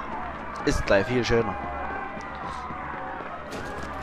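Running footsteps in the Watch Dogs video game patter steadily under someone talking in German, with game ambience behind.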